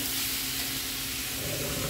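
Finely chopped onion sizzles in hot oil in a pan for a chicken gravy, a steady close, bright crackling hiss with no voices.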